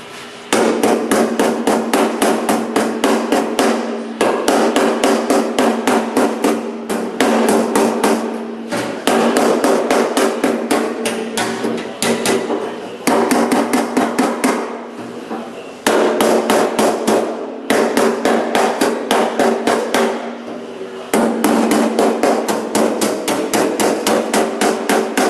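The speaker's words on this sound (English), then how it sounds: "this little high crown hammer is going to come in right in this corner here" Small high crown hammer striking metal in rapid, loud, ringing bursts of repeated blows, separated by brief pauses, close by and with no voices.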